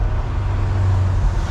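A C8 Corvette cruises through Beverly Hills streets with a steady low engine drone and road rumble, loud and close from inside the car, with no talking.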